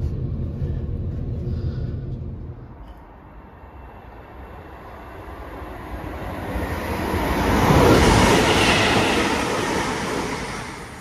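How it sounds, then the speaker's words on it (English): Avanti passenger train passing on a railway near Nuneaton, a steady rumble and clatter of wheels that swells to a loud peak as it goes by close, then slowly fades. "that new Avanti train which we saw at Cov is actually coming back up this way"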